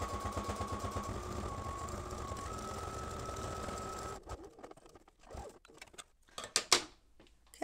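A sewing machine stitches mini piping binding with cording, a steady close whir that runs for about four seconds, then stops and gives way to scattered handling clicks and rustles.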